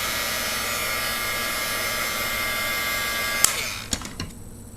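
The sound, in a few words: heating hot glue to reattach a fabric daffodil leaf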